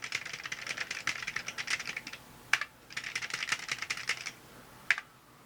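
Rapid bursts of typing on a TRS-80 Color Computer Model 1 chiclet keyboard, with a light, soft clatter in two runs, each ending in a sharper single key strike, and no talk.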